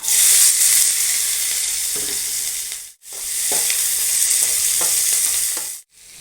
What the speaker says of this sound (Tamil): வெங்காயம் வதக்கிக்கலாம்.